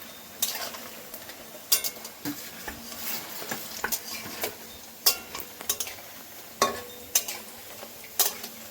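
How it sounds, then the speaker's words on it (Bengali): Cauliflower pakoras fry in hot oil, a quiet sizzle under a run of sharp metallic scrapes and clinks from stirring and turning them in the pan. "দেখুন বন্ধুরা, আবার ভেজে নিয়েছি,"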